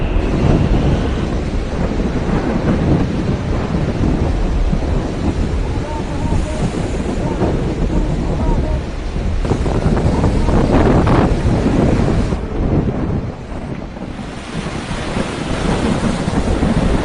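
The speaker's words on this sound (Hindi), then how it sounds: "इक्कीस साल बाद बंगाल की खाड़ी में ऐसा खतरनाक तूफान उठा है।" Super cyclone Amphan's storm wind roars without pause over the Bay of Bengal coast of Odisha and West Bengal, a loud, dense rush with crashing surf beneath, briefly easing near the end.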